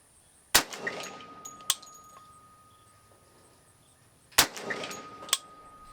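A Grand Power Stribog SP10A3 chambered in 10mm fires four sharp shots at an outdoor range in two pairs, each crack followed by a ringing decay with a faint steel-target clang, and no voices.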